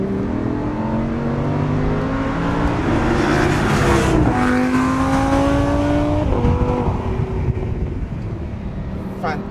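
A Lamborghini Huracán sports car engine revs hard and shifts through gears, pitch climbing and dropping sharply, loud and close throughout.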